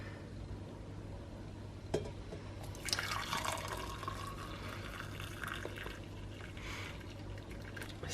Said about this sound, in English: we'll pour out the hot chocolate